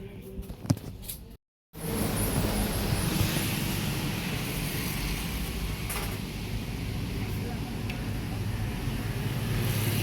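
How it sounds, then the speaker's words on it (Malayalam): Continuous dense hiss of heavy rain outside, steady and even after a brief dropout near the start. "പുറത്ത് നല്ല അടിപൊളി മഴയാണ് കേട്ടോ മഴയുടെ സൗണ്ടാണ് ഈ കേൾക്കുന്നത് കേട്ടോ"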